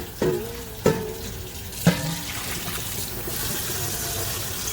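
A cooking pan is rinsed out with cool water, with a few sharp clanks of the pan near the start followed by a steady, running water hiss.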